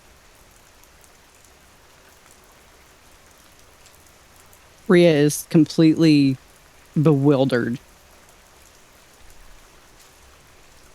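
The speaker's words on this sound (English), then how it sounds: "So she stands at the door, or with the door still open, listening to the rain" Steady rain falls outside an open door, a soft constant patter that runs throughout, while a voice speaks briefly in the middle.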